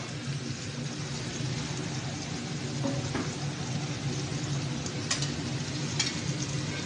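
Shredded cabbage stir-fried in a pan for a cauliflower tomato fry, a steady sizzle with occasional scrapes of a spoon against the pan, close and continuous, with no speech.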